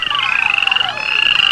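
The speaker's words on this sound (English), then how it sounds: "some boys playing near the pond saw a number of frogs in the water" Frogs croaking in a pond, a dense, continuous chorus of close, loud calls with rapid pulsing rhythm.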